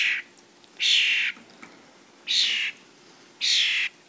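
Hungry baby starling giving three loud, harsh, rasping begging calls spaced about a second apart, each lasting around half a second, close by with quiet between them.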